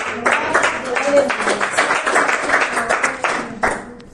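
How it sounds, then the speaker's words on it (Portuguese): A church congregation applauds, a dense patter of many hands clapping at close range, with voices mixed in throughout. "Vamos aplaudir ao Senhor."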